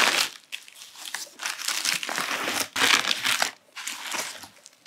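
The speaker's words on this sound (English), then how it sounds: "let's go ahead and unwrap these." Plastic shrink wrap being torn and crinkled off manga volumes, close and loud, in several bursts of crackling with short gaps between them.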